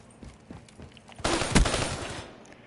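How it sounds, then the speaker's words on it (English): A burst of video-game machine-gun fire erupts midway after quieter scattered shots, loud and rapid for about a second before trailing off. "I'm gonna use this machine gun."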